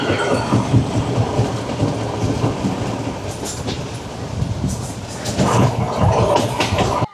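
A train on the coastal Colombo to Galle line in Sri Lanka rumbles and clatters steadily from on board, loud and continuous, with rhythmic clickety-clack of wheels and a surge of noise near the end.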